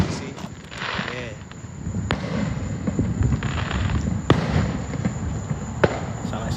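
Fourth of July fireworks burst at a distance, with scattered sharp booms and crackles over outdoor background noise while people talk nearby.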